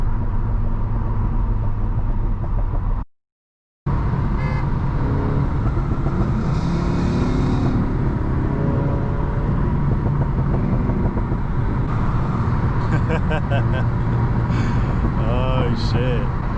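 A Hemi V8 car engine, running on E85 fuel, drones loud and steady under voices and cabin noise, with a brief dropout partway through and some rising revs near the end.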